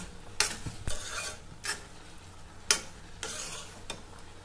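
Carrot halwa with cardamom powder being stirred in a pan, several distinct spoon scrapes and clinks against the metal at an uneven pace over a faint sizzle, close and fairly quiet.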